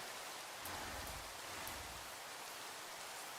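Steady rain falls throughout, a dense even patter of drops hitting surfaces, continuous hiss with no talk.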